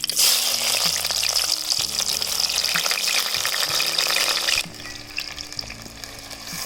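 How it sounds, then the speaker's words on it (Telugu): Onions and green chillies frying in hot oil in a clay pot, a loud steady sizzle with stirring scrapes that drops to a quieter crackle partway through. "బాగా ఈటెక్కిన నూనెలోకి వేస్తే తొందర ఉల్లిగడ్డ అనేది తొందర ఎర్రగా అవుతుంది అనమాట"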